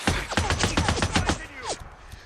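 Sniper gunfire in the video game Days Gone arrives as a rapid burst of about a dozen loud, close shots over a second and a half, then a brief whoosh and fading echo.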